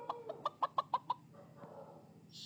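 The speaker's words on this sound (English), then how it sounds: "Chicken." Chicken clucking in a children's animal puzzle game, a rapid series of about seven close, clear clucks, then a short pause, with no talk over it.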